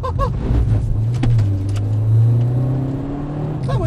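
Peugeot 208 GTi 30th Edition power sliding on a track, the engine holding a strong steady drone as the car slides, with brief tyre and wind noise at the start and end.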